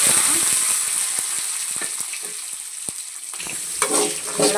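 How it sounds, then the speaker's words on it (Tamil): Peas, carrot and beans tossed in hot oil with mustard seeds and curry leaves, sizzling steadily up close while a spatula scrapes and taps the pan in quick irregular strokes. "நல்லா அப்படியே வதக்கிடலாம்."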